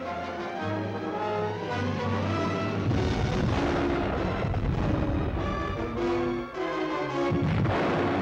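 A World War II submarine fires torpedoes in a 1958 film, a loud sustained roar of deep booming rumble that swells and continues without pause.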